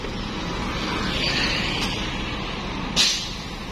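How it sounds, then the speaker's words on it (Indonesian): A Putra Pelangi bus pulls away from a bus terminal at night, with steady engine and road hiss and a sharp burst of air-brake release near the end. "sebentar lagi disusul dengan bus Putra Pelangi batangan C1"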